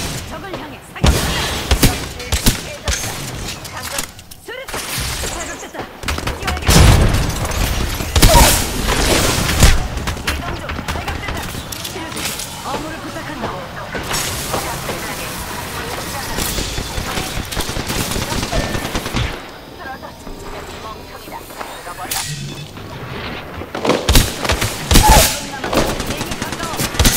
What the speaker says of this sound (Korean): 적을 향해 사격!